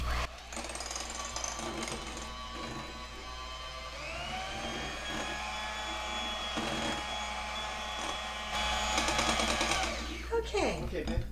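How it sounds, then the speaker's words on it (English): Electric hand mixer whirring steadily through savoiardi cookie batter, a continuous close motor hum with rising pitch and brief clatter near the end, with no speech. "now I'm going to mix this for 30 seconds"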